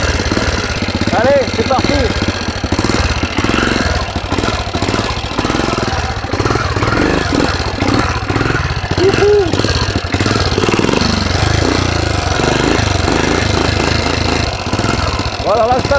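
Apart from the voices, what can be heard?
Tobec motorized vehicle engine running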